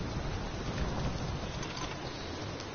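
Steady rain pours in Rise of the Tomb Raider around a dark, spooky tower, a broad continuous hiss with soft patter that holds even and fairly close throughout, no voices over it.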